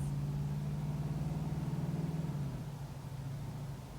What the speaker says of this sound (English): Just the engine purring.